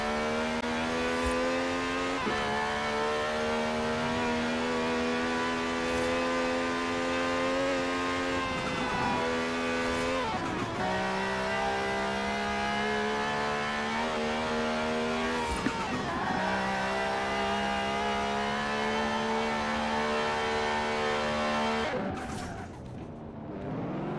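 A Lamborghini Huracan in Forza Horizon 4 roars loudly and steadily, its engine pitch climbing and dropping through repeated gear shifts, with brief tire squeals and braking dips before the sound fades out at the end.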